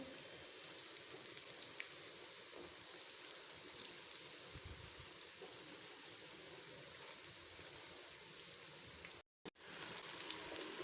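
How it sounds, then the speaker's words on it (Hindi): Eggplant finger chips frying in oil make a continuous, even hiss, like light rain, that carries on steadily, cut by one very short silent gap near the end. "इसी तरह हमने दूसरे बैंगन भी फ्राई कर लेने"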